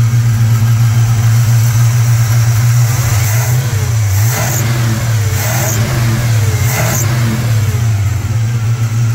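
A carbureted car engine, freshly tuned, runs loud and close with a steady idle, and three sharp revs rise and fall about a second apart.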